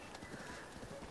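A horse's hooves clop along a path in Zelda: Breath of the Wild, a quick steady gallop rhythm blended with game ambience and soft background sound, with faint talk nearby.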